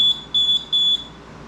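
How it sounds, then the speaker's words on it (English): A VEVOR three-wheel folding mobility scooter horn gives three short, steady electronic beeps at an even spacing, loud and close, with quiet background and no talking. "This is a horn."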